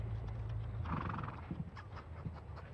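Horses on a working ranch with a rodeo arena, hooves clip-clopping and a whinny rising over a steady low rumble of outdoor background noise.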